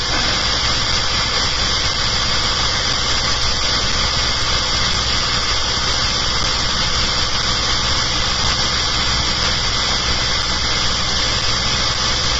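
A synchronous coil array motor makes a loud, dense, steady mechanical whine and hum that stays even for the whole stretch, with faint high ticking over it.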